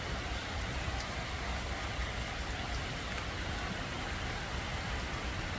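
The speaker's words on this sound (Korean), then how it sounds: "비가 갑자기 많이 쏟아지네요" Heavy rain pours down in a forest as a dense, steady hiss that stays even and unbroken throughout, with no voices.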